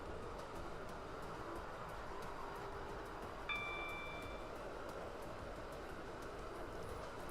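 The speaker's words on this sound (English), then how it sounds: "Oh, his train that goes 75 miles per hour." A Roblox Stepford County Railway train running at speed, a steady low rumble of wheels on track with faint rhythmic clicks, a brief high tone partway through, and no talk over it.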